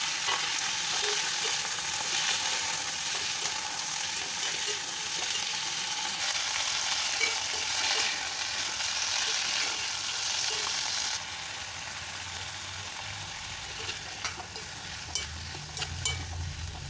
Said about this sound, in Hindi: मैंने सब्जियों को हल्का सा फ्राई कर लिया।